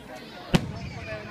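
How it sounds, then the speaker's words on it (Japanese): A single firework bursts at a local summer festival in August, one short sharp bang amid a steady crowd murmur, with people chatting nearby. "花火がヒューってやつだろ"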